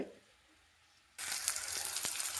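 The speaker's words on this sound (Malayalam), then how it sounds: "അതിലേക്ക് സവാള പച്ചമുളക് ഇഞ്ചി തക്കാളി ഇതൊക്കെ ഇട്ട് വഴറ്റിക്കൊണ്ടിരിക്കുകയാണ്" Onion, green chilli, ginger and tomato sizzling in hot coconut oil in a pan, a sudden loud, steady frying hiss that starts after a quiet moment and carries on with a few sharp crackles.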